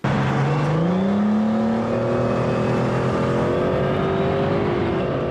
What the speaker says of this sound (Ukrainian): Ось вона їхня машина мчить по часовому яру.